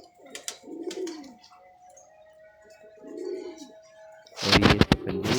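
Sialkoti pigeon cooing close by, two soft low throaty coos separated by quiet gaps with faint ticking, followed by a loud burst of rustling or wing flapping at the end.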